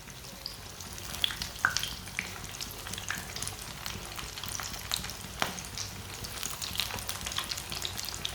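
Crispy kulfi kebabs fry in a pan over medium heat, a steady soft sizzle with faint crackles and occasional light scrapes, close and continuous with no talking.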